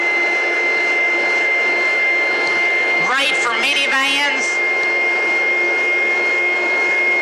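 A carpet cleaning machine runs with a loud, steady motor whine throughout, and a person speaks briefly over it.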